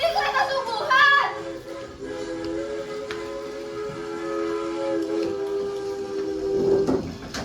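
Steam whistle of a train sounds in a sustained tonal blast, fading then swelling again near the end, with faint railway background and a voice briefly heard.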